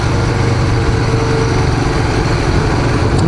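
A custom Harley-Davidson XR883 motorcycle engine runs loud and close while riding, a steady low rumble with constant throttle and no pauses.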